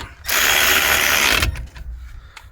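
A ratchet clicks rapidly in a continuous whirring burst for about a second, tightening a bolt during a brake pad and rotor job on a Toyota Prius, followed by a few faint metallic taps; close and alone.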